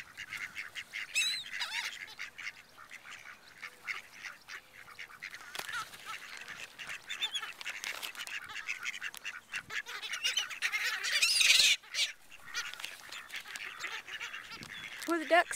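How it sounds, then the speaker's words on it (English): Ducks and gulls squabble over bread being thrown to them, a busy chorus of honks, quacks and squawks that carries on throughout, with an adult's voice heard faintly in places. "What do the ducks say?"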